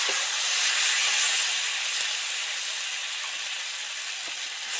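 Water splashes into a pan of hot oil with spices and snake gourd for a do pyaza, bursting into a loud, steady hiss and sizzle that holds for several seconds without voices.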